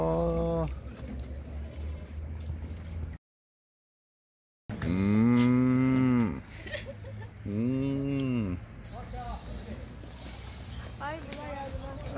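Cattle at an animal park in Jijel, Algeria give several loud, drawn-out moos near the microphone, with people chatting throughout and a brief gap of silence early on.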